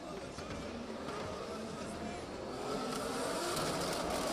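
A drift car engine at the Oman International Drift Championship roars steadily at a distance and builds toward the end, with a commentator talking over it.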